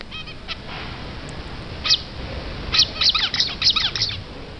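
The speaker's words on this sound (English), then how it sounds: "I found a clip of a finch singing." A recorded finch song played back, bright rapid chirps and twittering trills in short bursts over a faint hiss, sounding slightly thin as if from a speaker.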